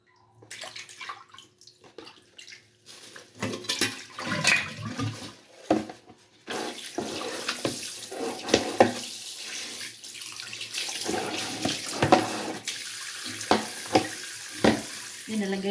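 Fish bought at a market rinsed one at a time under a running faucet in a sink, a steady splashing gush with irregular louder spurts, close by and with no talk.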